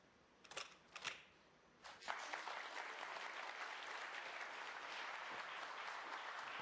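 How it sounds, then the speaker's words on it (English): Snooker audience applauding the world champion at a tournament, a few isolated early claps that swell into a steady, full round of clapping from the crowd. "Applause for the world champion"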